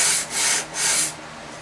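Guitar frets being sanded level, two long rasping strokes of abrasive on metal, close and distinct, then a quiet pause.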